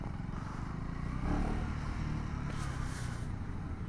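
Motorbike being ridden on the road, a steady engine drone with a slight swell as it revs, heard close from the rider's position, with rushing wind and faint traffic behind.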